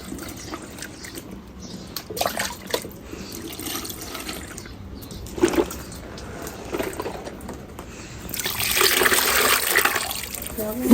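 Water splashes and trickles into a vessel in a village yard while goatskin churn buttermilk is being made, a steady wet pour growing louder and brighter near the end, with people talking around it.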